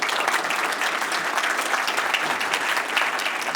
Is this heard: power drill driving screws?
no